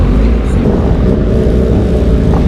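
Motorcycles at Daytona Bike Week, a loud continuous low engine rumble close by as bikes roll past, dense and steady for the whole stretch.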